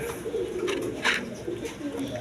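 Coloured Raj Golla pigeons coo in low, soft murmurs, overlapping and continuous, with a brief brighter sound near the middle and faint voice-like noise in the background.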